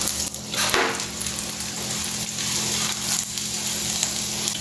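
Puran poli, a stuffed sweet Maharashtrian flatbread, sizzles steadily in ghee on a pan, a continuous close hiss with a faint low hum beneath and no talking.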